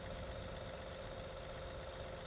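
A tractor engine idles with a steady, faint mechanical drone and a sustained hum, unchanging throughout with nobody talking.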